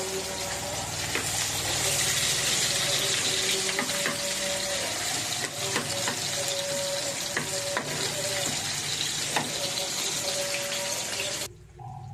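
Onions sizzling steadily in a frying pan with a spoon, a dense continuous frying hiss running evenly for about eleven seconds before cutting off abruptly near the end; no voices.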